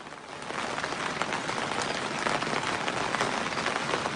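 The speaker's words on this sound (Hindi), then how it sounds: "बारिश और तेज हो गई है" Heavy rain falls outdoors in a dense, steady hiss that fills the whole stretch, loud and unbroken, with no voices.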